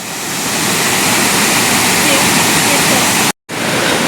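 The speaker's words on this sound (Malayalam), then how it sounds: "ഇതാണ് ശരിക്കുള്ള വെള്ളച്ചാട്ടം." Loud, steady roar of falling water, broadband and constant throughout, cut by a brief silent gap near the end.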